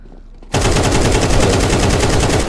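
AK-47 spray in Counter-Strike 2 opens after half a second of near silence: a loud, continuous, rapid burst of automatic gunfire that holds steady to the end.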